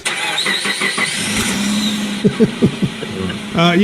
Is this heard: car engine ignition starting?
yes